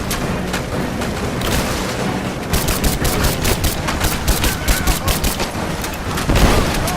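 Rapid automatic gunfire rattles continuously through a firefight in Rise of the Tomb Raider, dense bursts and sharp cracks layered with booms, shouting voices in the mix.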